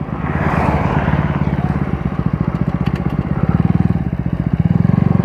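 A motorcycle is ridden through traffic, its engine revving hard and close with a steady rapid pulse that rises and falls, loud throughout with some clatter in the background.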